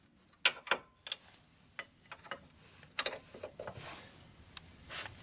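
A nut on a Renault Twingo clutch is tightened by hand, giving a few sharp metallic clicks followed by quieter ratcheting ticks, close and faint.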